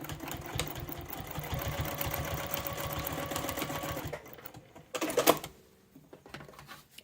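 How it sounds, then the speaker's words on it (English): A sewing machine stitches the second gusset seam of a clutch purse, a quiet steady rapid whirring for about four seconds, then stops, followed by a few faint handling clicks. "I'm going to sew this second gusset seam"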